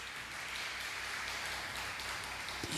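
Church congregation applauding the Holy Spirit during a sermon, a dense, steady wash of clapping that holds evenly throughout with no speech over it.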